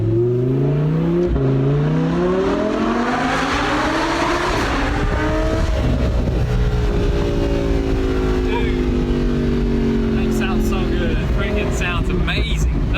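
A Lamborghini Huracan engine, a wrecked car that has been rebuilt, revs hard inside a tunnel. Loud, rising and falling harmonic sweeps echo off the walls with a rasping roar, and voices talk beneath the noise.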